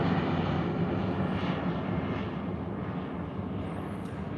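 An EasyJet Airbus A320 climbs out after takeoff from the Isle of Man and banks into a sharp left turn, its engines a steady, broad roar that fades slightly toward the end.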